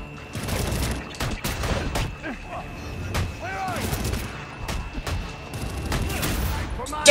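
Rapid bursts of gunfire and booming shots crack and echo in a Batman: Arkham Origins PC fight, loud and dense, with shouting voices and a character's talk mixed in.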